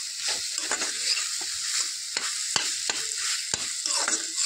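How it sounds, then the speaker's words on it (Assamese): Raisins fry in a pan while being stirred, a constant close sizzle with repeated scraping strokes of the spoon against the pan. "এনেকৈ ভালদৰে কিছু সময় লৰাই থাকিব লাগিব"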